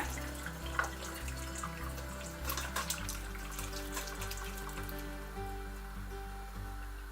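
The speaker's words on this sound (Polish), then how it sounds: "Odlewamy ziemniaczki. Zostawiamy tą wodę" Water drained from boiled potatoes pours and splashes into a sink, a steady trickling flow with a low hum underneath, fairly quiet.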